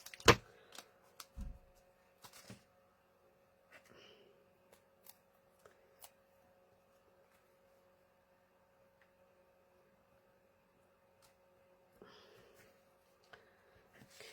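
Scissors snip through card stock for a handmade party banner card, a few crisp close cuts and rustles scattered over a quiet room with a faint steady hum.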